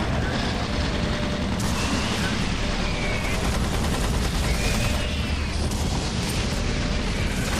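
Automated turret guns fire in Doom 3, a dense, sustained clatter of rapid gunfire with mechanical whirring, steady and loud throughout with no clear pauses.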